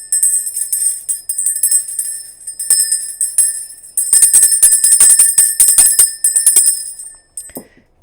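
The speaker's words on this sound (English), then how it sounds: "I am about to ring the bell." A small metal bell is rung repeatedly in bursts for about eight seconds, bright sustained tones overlapping, with a denser flurry of strikes in the middle before ringing out and fading; no talking.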